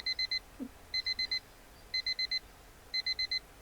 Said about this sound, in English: The alarm clock next to the bed is ringing.